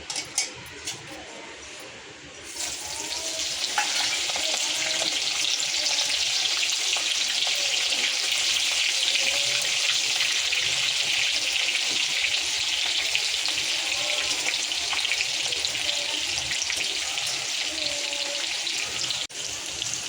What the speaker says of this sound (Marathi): आता आपण मिरची तळून घेऊया